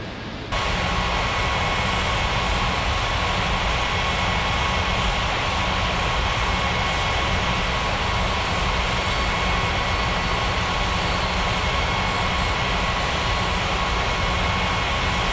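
Steady, loud broadband roar of jet aircraft engines in an air traffic control game, a continuous wash of noise holding level throughout with no voices over it.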